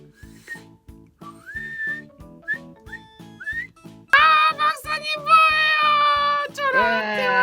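Bright, warbling bird whistles rise over a soft, rhythmic tune, growing loud and continuous in the second half as a cockatiel whistles along.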